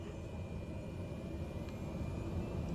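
Cessna 208 engine at full throttle in Microsoft Flight Simulator, a steady low droning roar with a faint high whine above it, continuous and even throughout.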